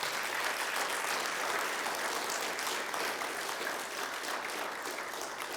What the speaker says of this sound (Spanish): ¿Puedes darle un aplauso de alabanza al Señor?